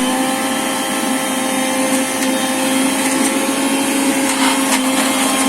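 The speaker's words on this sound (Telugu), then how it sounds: "సో ఇప్పుడు మనం గ్రైండర్కి వేస్తున్నాం మిక్సీకి వేస్తున్నాం" A mixer grinder grinds red chillies and tamarind for tomato pickle, running as a loud, steady, continuous motor whir with a constant hum and no pauses.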